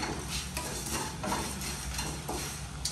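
Food frying in a pan, a soft continuous sizzle with occasional stirring scrapes, fairly faint and close, no talking.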